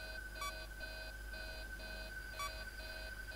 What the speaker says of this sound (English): Not the alarm.